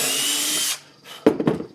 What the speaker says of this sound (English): Now I'm drilling, and I'm including the countersink there